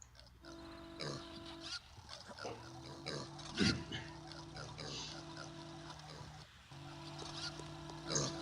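Pig grunts and squeals from the video game Warcraft Adventures, several short oinks over a tonal game music bed, with a louder burst in the middle and faint talk underneath.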